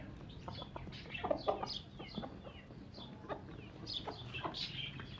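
Chickens cluck busily while being fed green food at a backyard pen, a steady overlapping chorus of near and mid-distance clucks and short calls with no talk.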